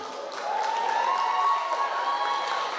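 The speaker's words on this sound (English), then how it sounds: "Let's give them a clap" Audience at a university food and research showcase applauding presenters heading to the stage, a steady mid-level wash of clapping with crowd murmur and a sustained tone running beneath it.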